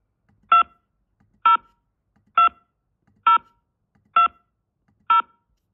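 Six telephone keypad DTMF tones key in a 6-digit one-time passcode. The beeps are loud, clean and evenly spaced, about one each second, with silence between them.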